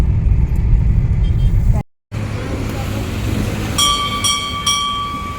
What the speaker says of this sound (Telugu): మా ఆయన గారు అయితే డ్రైవింగ్ చేస్తూ ఉన్నారు